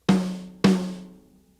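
Two separate hits on a tom mounted on the bass drum of a drum kit, each a sharp attack with a ringing, pitched body that decays over about half a second, heard alone and close.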